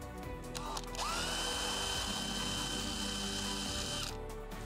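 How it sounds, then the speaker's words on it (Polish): A power drill with a 12–13 mm bit bores a hole through a multiwall polycarbonate roofing sheet for a garden pergola, a close, loud steady whine that spins up, holds for about three seconds, then stops. "Nawiercamy otwór przy użyciu wiertła 12 bądź 13 mm."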